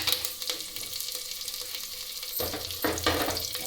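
Curry leaves frying in hot oil for a spicy mutton kulambu, a steady hiss of sizzling with sharper crackling bursts toward the end, close and fairly quiet, no talk.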